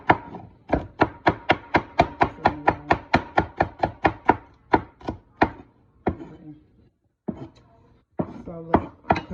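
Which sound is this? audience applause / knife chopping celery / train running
knife chopping celery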